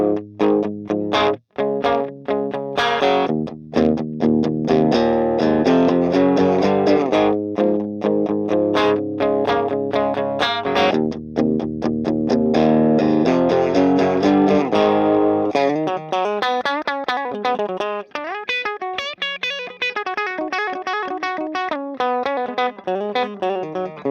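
Electric guitar through the Valeton GP-200 Knight CL+ amp model, based on the Grindrod Pendragon PG20C normal channel, plays a steady run of chorus-tinged, lightly driven notes and chords, then a wavering, modulated passage, all on its own.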